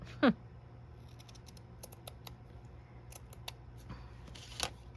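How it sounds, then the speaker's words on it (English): Scissors give a single crisp snip near the start as they cut a paper craft tag, then only faint rustling and light handling follow in a quiet room. "Okay, so now you can see I have a nice spot to cut."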